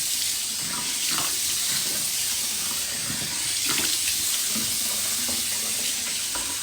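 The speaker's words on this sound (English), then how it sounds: "let me just rinse my face" Running tap water splashes steadily while a face is rinsed at a sink, a continuous close hiss with a few soft splashy bursts.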